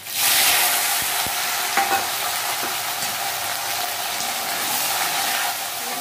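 Green chilies fry in hot oil in a wok, a steady close sizzle that flares loudly at first and holds through the clip, with a few stirring clinks and no talk.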